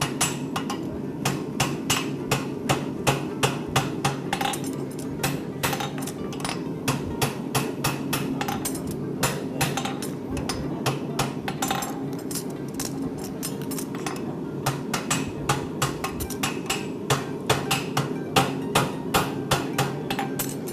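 Repeated sharp metallic hammer strikes shaping a horseshoe ring on an anvil in an irregular rhythm, with short pauses between bursts of blows.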